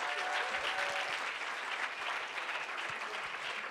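An audience at a startup weekend in Toronto applauds after the startup pitch presentations. The even, continuous clapping holds steady for several seconds without anyone speaking.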